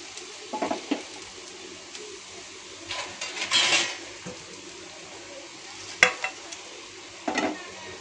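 Aloo paratha roasting on a hot griddle gives a soft, low sizzle, broken by a few sharp spatula scrapes and taps near the middle and end.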